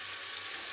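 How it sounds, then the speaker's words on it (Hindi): Onions frying in a pan for khichdi made with rice, green lentils and masoor dal, a brief close crackling sizzle. "अभी प्याज भून रही हूँ।"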